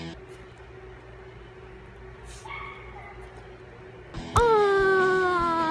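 A dog yips and whimpers softly at first, then lets out a louder, sustained whining howl toward the end, with some faint background voices.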